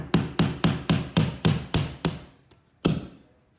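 Eight quick hammer blows in an even rhythm driving a hook into a wall, a short pause, then one final sharp strike, close and loud.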